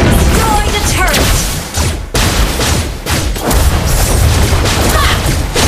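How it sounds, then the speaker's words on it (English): Turret destruction in the Mobile Legends video game, heavy booming blasts and crashing impacts layered over dense, loud battle noise with brief game voice lines. "Your team destroyed the turret."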